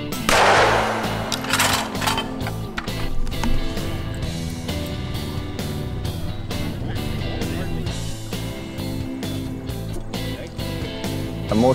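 12-gauge shotgun shots ring out across an outdoor sporting clays course, a long run of sharp, loud blasts at irregular intervals, some close and some more distant, over a steady background murmur.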